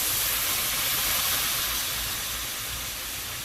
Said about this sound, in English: I'm gonna deglaze it with my red wine, my cooking wine.